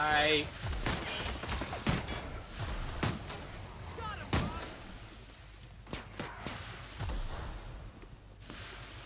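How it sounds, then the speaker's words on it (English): Gunfire rings out in The Outer Worlds, with a run of sharp shots and heavy bangs spaced unevenly over a busy, noisy background, and voices speaking at points. "That was a lot of shooting."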